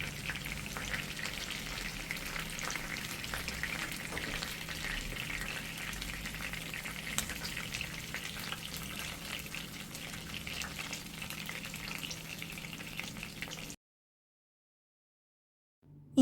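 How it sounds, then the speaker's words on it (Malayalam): Chicken legs deep frying in hot oil give a steady, dense bubbling sizzle that runs unbroken at moderate volume for about fourteen seconds, then cuts off abruptly to silence. "ചിക്കൻ നന്നായിട്ട് ഫ്രൈ ആയിട്ടുണ്ട്"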